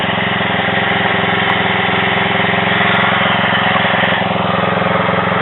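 A Craftsman rear-engine riding mower's small engine runs steadily after its carburetor was cleaned, with a loud, close, even buzzing drone and no break or speech.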